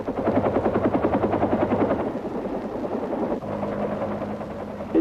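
Evacuation helicopters at the Battle of An Loc in 1972 thump loudly with steady rapid rotor beats, a continuous close drone that eases slightly partway through.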